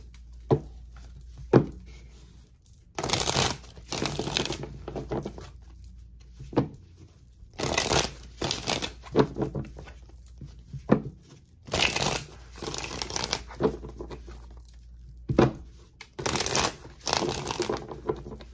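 Tarot cards shuffled by hand in several separate bursts of quick riffling and flapping, close up, with quiet pauses between them.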